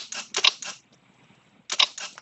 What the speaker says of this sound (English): Camera shutter.